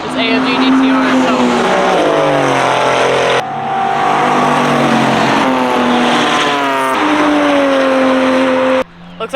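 A Mercedes-AMG race car on the back straight of Summit Point Motorsports Park during a track day, engine screaming loudly and rising through the gears in repeated upshifts, close and dominant.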